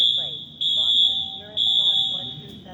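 Fire alarm sounding at Roxbury Crossing subway station, a loud steady high-pitched tone in long pulses, with station announcement speech and platform noise underneath.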